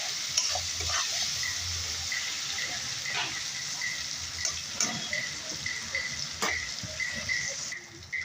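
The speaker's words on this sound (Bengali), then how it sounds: "তারপর কিছু লবণ, হলুদ দিয়ে ভেজে নেব।" Prawns frying with salt and turmeric in a hot oiled pan, a steady close sizzle with scraping stirs and occasional sharp clinks throughout.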